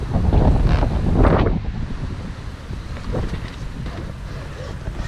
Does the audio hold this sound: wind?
yes